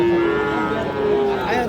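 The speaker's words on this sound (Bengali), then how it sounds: "নেপালি গির জাতের একটা ষাঁড় বাছুর" A Nepali Gir breed bull calf at a cattle market lets out a drawn-out moo, a sustained low tonal call heard close, over a busy background murmur.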